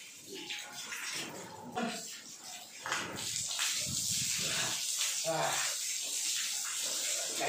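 Hot water splashing and pouring during a bath, a steady wet wash with irregular sloshes and bursts close by, partly mixed with voices.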